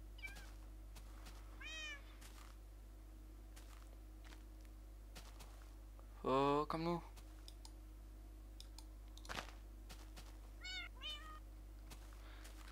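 A cat meows in a video game, with a few short mews followed by one louder, longer meow and more faint mews, set against quiet keyboard and mouse clicking while a person speaks briefly.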